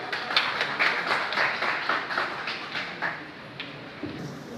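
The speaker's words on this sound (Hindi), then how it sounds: "जोरदार तालियां बजाएं।" A crowd at a DJ association meeting in Muzaffarnagar claps together in a steady rhythmic beat, fairly loud and continuous for several seconds.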